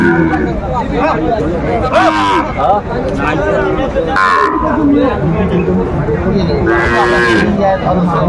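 Cattle at a Faridpur market selling Sahiwal bulls, with several loud moos rising at intervals over constant crowd babble and people talking close by.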